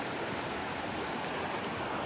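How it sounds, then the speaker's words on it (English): Water from a waterfall pours steadily into a reservoir, a broad, constant rushing roar with no breaks. It stays loud and even throughout, with no voices. "Got one waterfall there feeding into the reservoir, another one here."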